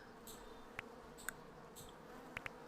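Bees buzz in the video game Hive Time as a soft, steady drone under light background noise, with a few short bright clicks from the game popping up now and then.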